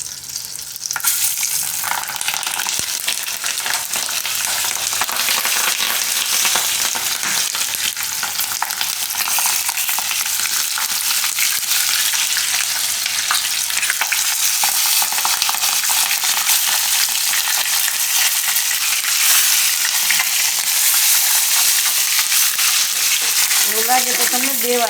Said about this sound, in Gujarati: હવે આપણે આમાં નાખશું હિંગ થોડીક અને મરચાં મૂકી દેવું આ રીતે